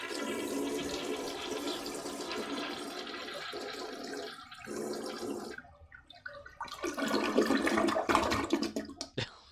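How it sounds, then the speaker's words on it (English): A toilet flushing, loud and close: a long rushing swirl of water that drops briefly, then surges again as the bowl refills, with gurgles near the end. "I just love the sound of a toilet flushing in the morning."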